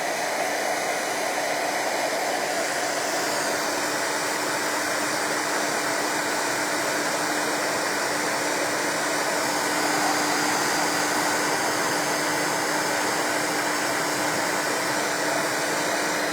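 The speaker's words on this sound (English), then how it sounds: "This is just a heat gun." A heat gun blows hot air steadily to dry paint on handmade earrings, a continuous loud hiss with a faint steady whine that runs unbroken throughout, with no talking.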